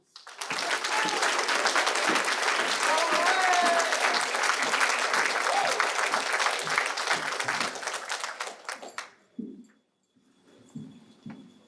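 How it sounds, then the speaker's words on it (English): A large audience at a school board candidates' forum claps loudly and steadily for about nine seconds before the applause cuts off, leaving a few faint thumps and murmurs. "Now please give them all a big round of applause."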